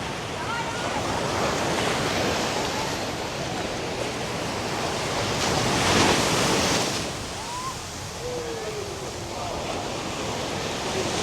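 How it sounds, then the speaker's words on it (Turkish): Rough sea surf breaking steadily on a crowded beach in Nha Trang, Vietnam, a broad continuous roar of waves with a swell around the middle and faint distant voices mixed in. "Deniz bayağı dalgalı ya."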